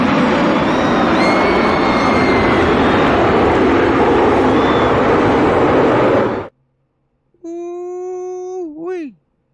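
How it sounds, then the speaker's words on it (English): Military jets roar low overhead in a loud, sustained sweep during a K&N Series stock car race flyover after the national anthem. The roar cuts off abruptly, then a person lets out a rising and falling whooping cry. "The planes flying over gets me every time."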